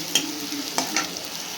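Chopped large onions fry in hot oil for egg rice, a steady sizzle under a few sharp scrapes of a spatula against the pan, close and fairly loud with no talking.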